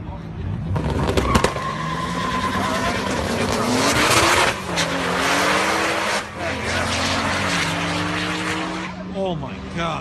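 A 1550-horsepower Toyota Supra on 60 psi of boost launches down a drag strip. A loud engine rises through its gears in sweeping pitch climbs over about ten seconds, tires squealing, with voices talking beneath it.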